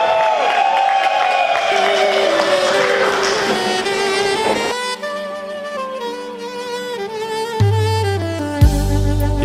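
Guests cheer and whoop at a Congolese traditional wedding in Coralville, Iowa, a lively crowd roar mixed with loud music and singing, continuous and close throughout.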